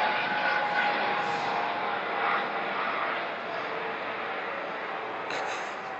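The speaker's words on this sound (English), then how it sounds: "We've got another helicopter." A helicopter passes overhead, a steady distant rotor-and-engine roar that holds throughout and fades slightly near the end, with no clear speech over it.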